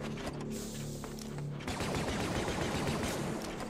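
A rapid burst of blaster fire from a Star Wars horror video game crackles loudly and continuously in the second half, following a lower, droning stretch of in-game sound.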